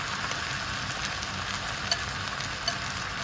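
Chinese sausage and vegetables stir-fry for butter garlic fried rice in a hot pan, giving a steady, dense sizzle up close with faint stirring clicks and no talk.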